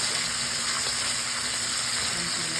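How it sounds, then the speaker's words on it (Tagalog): Garlic, onion and ginger sautéing together in a pan for ginataang tilapia with mustasa, a dense, even sizzle and hiss held at close range throughout without any talking. "magigisa ka na ng bawang pala"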